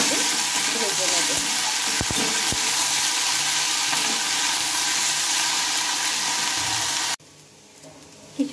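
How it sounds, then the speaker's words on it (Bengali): Pointed gourd peels fry in a pan with a loud, steady, hissing sizzle and a few light knocks, until the sound cuts off abruptly near the end. "এবার এটাকে আমি ভালোভাবে একটু ভেজে নেব"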